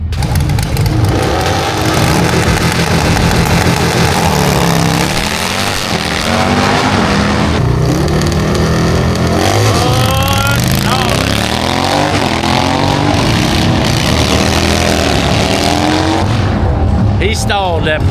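Harley motorcycles drag racing, with loud, close engines roaring and revving, and pitch sweeps rising and falling as they accelerate past. People talk over the noise throughout.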